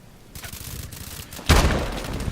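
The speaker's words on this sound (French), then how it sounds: "Arrête de me balancer des grenades." A grenade explodes in a first-person shooter game, a sudden loud boom about midway that follows lighter crackling gunfire and then leaves a rumbling tail.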